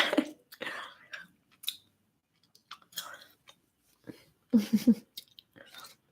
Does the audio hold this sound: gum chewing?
yes